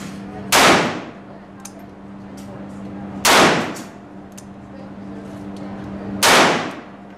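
.44 Magnum handgun fired three times at roughly three-second intervals, each shot a loud sharp blast with a quick decaying tail, heard close outdoors with low background hum between.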